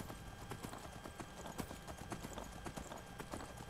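Rhythmic hoofbeats from the Skyrim horse Shadowmere, played on PS4, drum steadily at a brisk pace, close and clear above faint game ambience.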